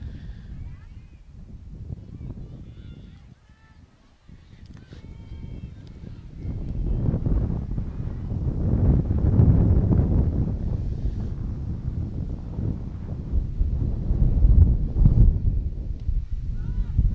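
Wind gusts sweep across an outdoor girls' varsity softball field, a rushing, swelling roar that builds toward the middle and surges again near the end, with a commentator talking over it.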